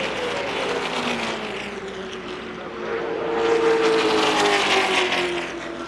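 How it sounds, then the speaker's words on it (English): NASCAR race car at the 2001 Pepsi 400 after hitting the wall, its engine droning and grinding as it slows, with loud, steady track noise that swells midway, alone without talk. "Grinding to a stop."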